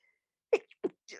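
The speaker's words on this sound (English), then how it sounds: "I think I'm going to sneeze." A woman leading a gentle yoga class sneezes once, a sharp close burst followed by a short sniff and a brief exhale.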